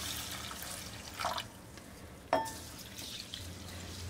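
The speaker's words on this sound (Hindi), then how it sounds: "इसमें पानी डाल दूंगी और दो से तीन बार अच्छी तरह से धो लेंगे।" Rice and moong dal being rinsed in water: soft, quiet sloshing close by with one sharper splash midway, and no talk.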